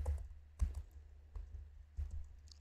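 A computer keyboard is tapped in a few quiet, separate bursts of keystrokes with pauses between, close and faint.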